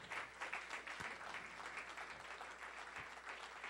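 A church congregation applauds in praise at a religious conference, a steady wash of many hands clapping at moderate distance with no talk over it.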